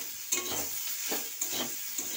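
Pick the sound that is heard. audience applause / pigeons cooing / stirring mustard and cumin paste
stirring mustard and cumin paste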